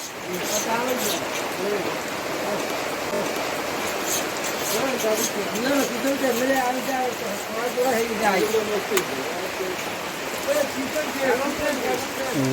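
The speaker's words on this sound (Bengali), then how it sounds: "নদীর মধ্যে দেখা যায় কি পরিমাণ বৃষ্টি হচ্ছে" Heavy rain drums on a surface and over a river in a dense, continuous patter while voices talk faintly beneath it.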